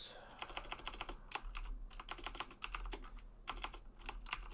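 Quiet, rapid clicking of a computer keyboard being typed on in steady bursts, close up, with short pauses between runs of keystrokes.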